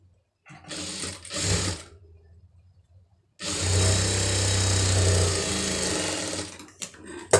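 An electric sewing machine stitches a final seam on folded cloth in a tailoring lesson: a short whirring run, a pause, then a longer steady buzzing run, close and loud.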